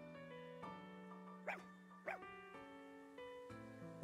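A small dog yips a few times in Fire Emblem Engage, faint short barks set against steady game music.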